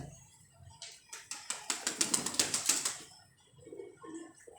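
A pigeon, a fancy breed kept by a pigeon club, flutters and claps its wings in a quick burst of sharp, rhythmic flaps that swell and fade, with faint soft sounds before and after.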